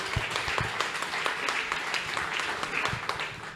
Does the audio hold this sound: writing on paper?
no